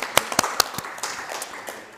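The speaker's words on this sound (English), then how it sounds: "A big applause also on your side." Scattered applause from a small symposium audience, a handful of sharp separate claps near the start thinning into softer, sparse clapping across two seconds.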